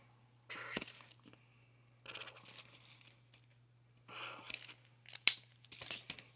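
Scissors snipping slits into a paper square, several short crisp cutting and crinkling bursts spaced apart against a quiet background, close and fairly soft.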